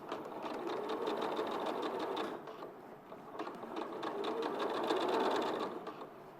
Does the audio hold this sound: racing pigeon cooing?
no